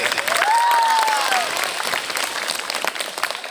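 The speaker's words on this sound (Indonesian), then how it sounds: "Kasih tepuk tangan untuk kakak." A crowd at a school Ramadan lecture claps steadily, dense and loud, while a voice briefly calls out over the applause near the start.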